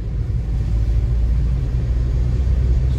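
A car drives along the road into Kabardinka in January, with a steady low engine rumble and road noise throughout, close and fairly loud, no speech.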